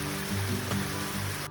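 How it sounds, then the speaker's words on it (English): A waterfall in Yosemite Valley roars as a steady, dense wash of falling water, close and fairly loud, with no voices. "the gentle rhythm of a waterfall is very meditative"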